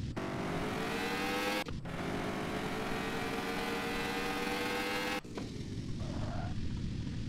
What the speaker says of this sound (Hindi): इसे चला के भी देख लेते हैं आज गाड़ी। ओए होए, इसकी आवाज़ बड़ी प्यारी यार